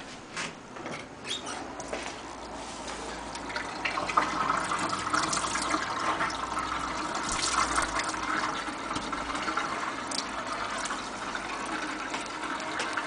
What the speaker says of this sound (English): I can just put some hot water in it and free the bottle up from the rest of this ice chunk